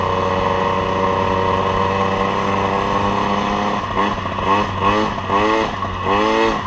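An MBK 51 Magnum moped with a modified airbox idles loudly up close, then is revved hard in several sharp, rising bursts during the last few seconds.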